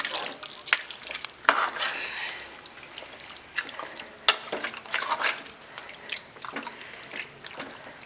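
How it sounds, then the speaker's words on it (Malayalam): Water and thin coconut milk poured into a pot of Malabar mutton curry and stirred, with a watery sizzle and repeated scraping and sloshing strokes up close. "ആവശ്യത്തിന് വെള്ളം കൂടെ ഒഴിച്ച് വേവാൻ വയ്ക്കാം."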